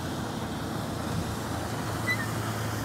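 Suzuki 15HP four-stroke short-shaft outboard motor from 2017 running after starting, a steady low rumbling drone with even texture throughout, close and without talk.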